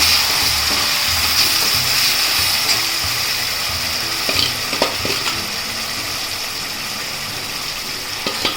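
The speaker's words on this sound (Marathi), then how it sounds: "आता कोलंबी टाकून घेते फ्राय करून घेते" Prawns fry in a pan with a steady, close, hissing sizzle and occasional stirring scrapes and clinks, with no talking.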